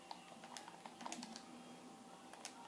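Quick, soft keystrokes on a computer keyboard while writing a Minecraft sign, a short irregular run of light clicks close up over a quiet background hum.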